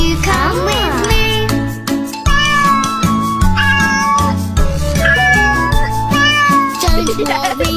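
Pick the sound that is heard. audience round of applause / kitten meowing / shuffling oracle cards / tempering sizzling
kitten meowing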